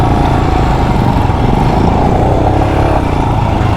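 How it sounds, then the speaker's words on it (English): An adventure motorcycle's engine revs on a dusty trail at an ABR festival, a loud, steady, throaty drone close to the microphone that runs throughout with no talking. "You've got to give it a few revs."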